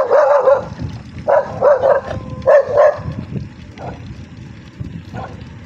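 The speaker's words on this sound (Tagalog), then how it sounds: "Naku, itong mga aso na." Several close dogs bark in short repeated bursts, then the barking thins to a few fainter yips trailing off.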